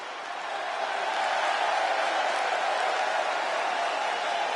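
Arena crowd in the WWE 2K26 wrestling video game, a steady, dense roar of cheering that swells slightly and holds constant throughout, with no distinct voices standing out.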